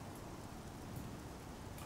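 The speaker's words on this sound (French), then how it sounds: "C'est dommage qu'il pleuve quand même." Rain falls over the town of Skingrad in the video game Oblivion, a soft, steady hiss of rainfall that stays even and faint throughout with no talk.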